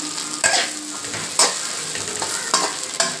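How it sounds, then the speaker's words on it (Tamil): A spoon or spatula stirs peanut powder into an ivy gourd stir-fry in a hot pan, giving soft scraping strokes and light clacks over a low sizzle, close by. "இப்போ இந்த வேர்க்கடலை பொடியை போட்டுக்கலாம். போட்டு நல்லா மிக்ஸ் பண்ணிக்கோங்க."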